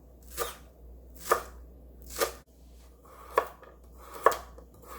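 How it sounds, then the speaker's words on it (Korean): Five crisp knife chops on a cutting board as scallions are sliced, spaced about a second apart, close and clear with no talking. "약간의 쪽파 썰어줍니다"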